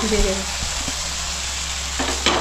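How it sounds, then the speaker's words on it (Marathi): Amboli rice pancakes sizzling and frying on a hot pan at close range, a steady hiss with a few faint clinks near the end. "इथे काकी आंबोळ्या करतायत."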